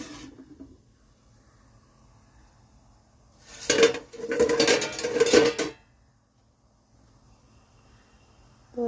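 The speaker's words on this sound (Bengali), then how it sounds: "কেমন হয়েছে চাপাটা নামিয়ে একবার দেখে নিই" A metal lid lifted off a pot of hilsa fish steaming in pumpkin leaves, giving a short burst of clattering and scraping metal, close and moderately loud, amid otherwise quiet kitchen surroundings.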